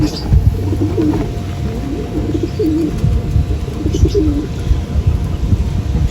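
Racing pigeons cooing repeatedly in soft, rolling phrases close by at a derby in Balaoan, La Union, over a steady low background rumble, with faint chirps and no talking.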